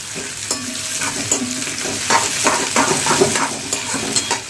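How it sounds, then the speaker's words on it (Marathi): Onion frying in hot oil with cumin, crackling and sizzling steadily up close while a utensil stirs and scrapes the pan in repeated bursts, with no talking. "चला चांगलं आपण याला फ्राय करून घेऊया कांद्याला"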